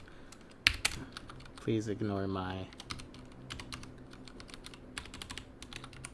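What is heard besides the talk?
typing on a computer keyboard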